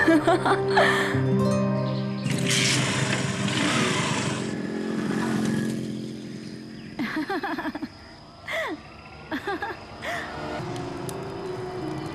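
A motorbike is ridden during a horror drama scene, its engine a steady rumbling drone mixed with music-like tones, with brief voices breaking in toward the end.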